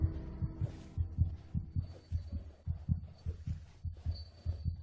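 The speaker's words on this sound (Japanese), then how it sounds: "何の心臓音これ。" A heartbeat in the horror video game Among the Sleep: steady doubled low thumps repeating at a regular, fairly quick pace, faint overall with soft tones and ambience behind.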